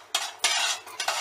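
Dried ginger and asafoetida dry-roasting in a pan, heard as four short bursts of scraping and rattling as the spices are stirred against the metal, close and fairly quiet, with no voices.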